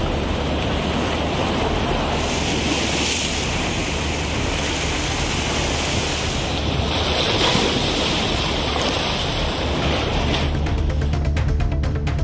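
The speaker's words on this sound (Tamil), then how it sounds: "காலையை காட்டிலும் மாலையில் கடல் அலைகள் 5 அடி உயரத்திற்கு ஆர்ப்பரித்தது" Rough, swollen sea surf pounds the Nagapattinam coast with waves about five feet high in the evening: a continuous, loud broadband roar of crashing water mixed with wind rumble, no voices.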